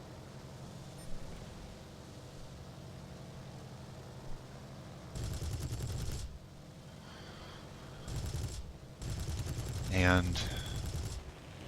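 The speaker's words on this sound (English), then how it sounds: "just devastating cannon fire, tearing through his aircraft" A Bristol Beaufighter's cannons fire in War Thunder in several short, loud, rattling bursts that are separated by quieter engine drone, with the final burst the longest and strongest.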